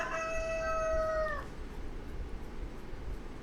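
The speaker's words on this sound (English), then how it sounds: "there was a shrill crow. It wasn't a typical rooster crow" A rooster gives a single shrill, unusual crow lasting over a second, clear and fairly close, before it fades into a steady background hiss.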